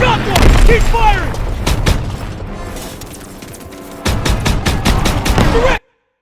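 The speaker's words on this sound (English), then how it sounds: "Keep firing!" Heavy gunfire and booming explosions in a Call of Duty WWII battle, dense repeated shots and blasts that are loud and close, with shouted voices over the combat before it cuts to silence.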